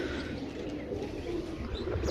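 Pigeons kept in pairs for sale coo steadily at close range in Pakistan. The low, throaty cooing runs continuously, with a few faint chirps mixed in.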